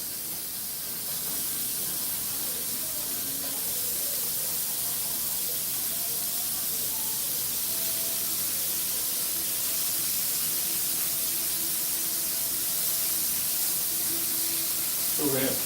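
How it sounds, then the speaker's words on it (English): Bacon burgers sizzle on a cooking surface in a steady, unbroken hiss that runs the whole time, with a faint voice in the background. "Ah, that sizzle."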